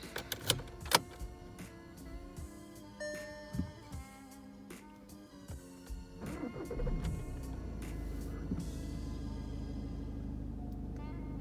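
A 2016 Volkswagen Golf VII 1.6 TDI diesel engine cranks and catches after several clicks and clunks, then settles into a steady, low idle rumble that continues to the end.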